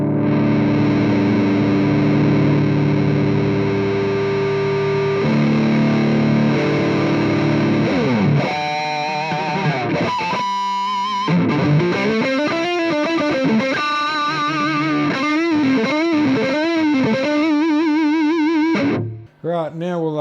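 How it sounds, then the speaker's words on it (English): An electric guitar runs through a Mesa Mark V 25 amp in Mark IV mode with the gain fully up, playing heavily distorted metal: sustained chords first, then fast chugging riffs and bends, loud and dense throughout. "let's just see how the Mark IV mode on full gain"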